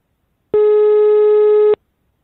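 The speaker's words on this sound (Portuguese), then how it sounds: "Eu vou ligar pra Estelita, que ela pediu pra entrar em contato com ela" Telephone ringback tone on a call being placed: a single steady electronic beep lasting just over a second, clean and clear, starting and stopping sharply against silence.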